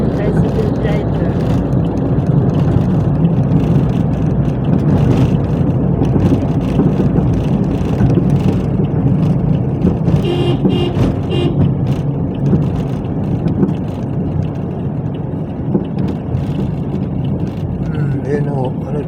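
A motorized tricycle on a ride toward Tagaytay, its engine droning steadily and loudly close by with road noise throughout, while people talk over it.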